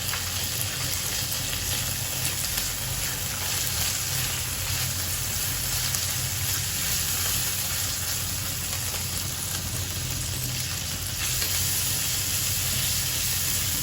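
Shrimp stir-fry in a pan with sauce, a dense, loud, steady sizzle and crackle of frying that runs unbroken from start to finish, with faint stirring beneath.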